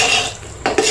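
Spatula scraping and clinking against a metal pan while stirring jaggery churma made from leftover rotis, close and fairly loud, with two sharper knocks near the end and no talk.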